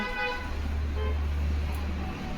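Vehicle horns toot from street traffic outside a home sewing room where a blouse is being cut, heard as a sustained honk over a low traffic rumble, with a voice faintly in the background.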